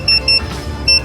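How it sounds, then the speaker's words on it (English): A wireless meat thermometer signals that barbecued short ribs are done, sounding loud, close electronic beeps in quick pairs, repeating in bursts with short gaps between, no talking. "my Typher just went off. It's beeping."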